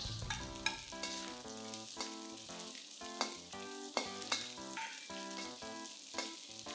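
Dried shrimps stir-frying in hot oil in a wok, a soft sizzle running under prominent melodic background music.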